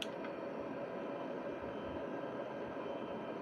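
Airliner engines spool up for takeoff in Microsoft Flight Simulator, a steady, broad jet roar that holds evenly at moderate loudness with no voices.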